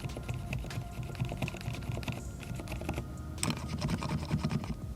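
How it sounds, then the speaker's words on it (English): Rapid continuous typing on a keyboard fitted with Sea Salt Silent V2 switches, a dense, soft, muffled patter of keystrokes with a brief pause partway through, close and steady. "If you want to hear what a sea salt silent switch sounds like, I have one on this keyboard right here on the wall"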